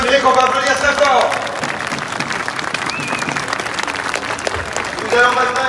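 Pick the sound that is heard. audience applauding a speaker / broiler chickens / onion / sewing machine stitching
audience applauding a speaker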